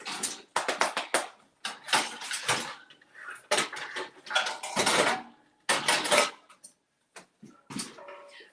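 A large skillet handled in a home kitchen while making protein pancakes, with repeated close metallic clanks, scrapes and rattles coming in uneven bursts separated by brief quiet gaps.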